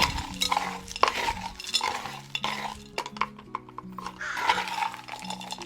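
Orchid potting mix being stirred together with horticultural charcoal, a close, dry rustling and crunching with scattered clinks and scrapes that comes in bursts of mixing, over faint background music.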